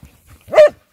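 A dog on a snowy walk gives a single loud, close bark after a few soft rustles and low thumps, with no voices.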